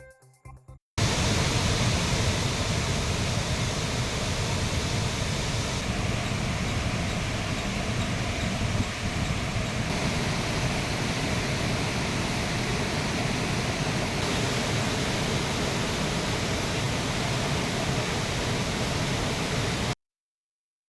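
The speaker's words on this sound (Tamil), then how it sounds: "திருப்பரப்பு அருவியில் வெள்ளப்பெருக்கு ஏற்பட்டு தண்ணீர் ஆர்ப்பரித்து கொட்டுகிறது" Thirparappu waterfall in flood after heavy rain, a loud, steady roar of pouring water that stays broad and unbroken after a brief start, then cuts off abruptly.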